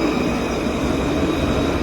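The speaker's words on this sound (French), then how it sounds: "Regarde le tramway qui part" A tram pulls away from a city stop, giving a steady, dense rumble of wheels and motor that fills the whole moment at close range, with no voices.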